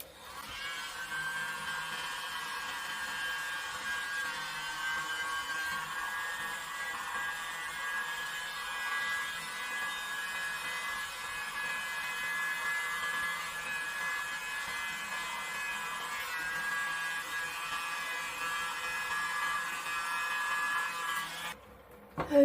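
A steady, close whooshing blast of air blows across a Dutch pour of poured paint to clear out lumps. The hiss runs evenly for about twenty seconds, then cuts off abruptly.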